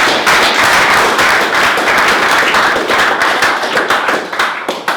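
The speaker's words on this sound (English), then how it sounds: "So, round of applause." Loud, dense audience applause from a crowd at a tech event, steady clapping that fills the space throughout, thinning slightly toward the end.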